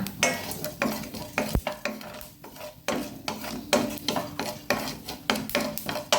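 Urad dal fries in a hot pan, with rapid rhythmic spatula scrapes and clatters over a background sizzle, strokes repeating quickly and close up.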